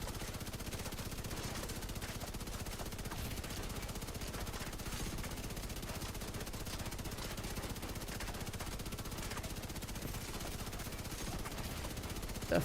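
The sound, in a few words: Bullet King machine gun firing in The Division 2 video game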